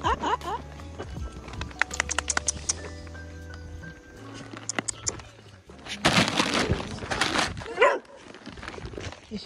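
A puppy barks outdoors in the rain in rural Africa, with sharp yaps and yelps scattered over busy background noise while people talk nearby.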